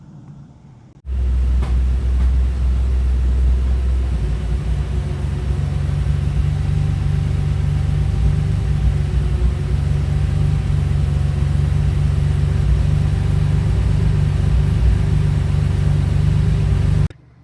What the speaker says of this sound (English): let's start the car again